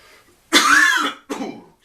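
Two harsh coughs close up, a longer one followed by a shorter one, loud against near silence.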